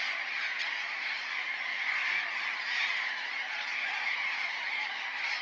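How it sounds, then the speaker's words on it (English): A flock of burrowing parrots calls from a semi-desert neighborhood, a steady dense chorus of shrill squawks that runs unbroken and moderately loud throughout. "Even colorful, noisy flocks of burrowing parrots can find a place to call home in these arid neighborhoods."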